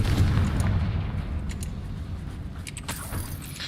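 A Confringo blasting spell explosion in the Hogwarts Legacy video game lands as a heavy, booming low rumble that fades gradually, with faint crackling debris layered over it.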